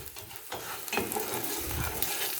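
Bologna fries in a pan with a soft, continuous sizzle and a few faint stirring scrapes, fairly quiet throughout.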